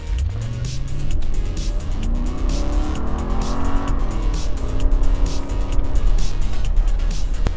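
A Mercedes convertible accelerates hard at full throttle. The engine note climbs steadily and sits up close and loud over a constant bed of road and wind noise, with no talking.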